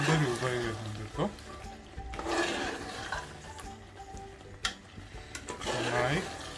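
Spicy Kerala beef varattiyath being stirred in a pan, a steady sizzle with scraping spoon strokes against the metal and occasional sharper clanks, close and fairly loud, with faint talk and music-like tones in the background.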